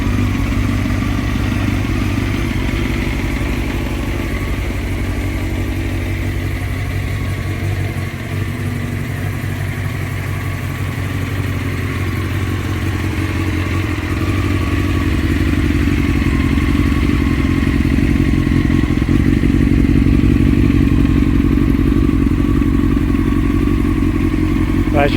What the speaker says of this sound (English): As you can hear, the engine starting to settle down now because it's up to temperature.